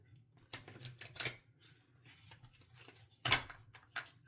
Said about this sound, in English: All right, so we will shuffle 3 times